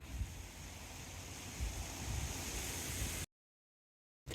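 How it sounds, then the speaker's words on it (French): Wind blowing outdoors along the Camino de Santiago, a steady low roaring rush buffeting the microphone, then a brief dropout to silence before it returns. "il y a du vent là, mais ça devrait se calmer normalement"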